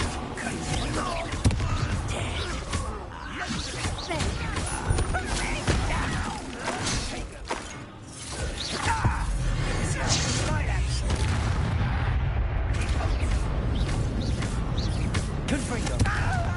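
Explosions from the Confringo blasting spell burst repeatedly in the video game Hogwarts Legacy, with loud booming blasts mixed into an ongoing spoken voice.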